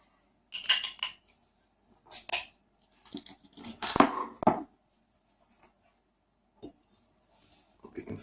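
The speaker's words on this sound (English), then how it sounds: "Gonna pop my beer up." A Zlatopramen beer bottle is cracked open with a sharp metallic pop and clink, followed by a few scattered glassy taps and small handling sounds in a quiet room.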